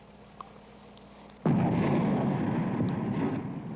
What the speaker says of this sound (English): Artillery shell.